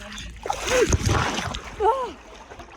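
A person jumps into cold cenote water near Tulum, Mexico, making one heavy splash and slosh with voices talking around it.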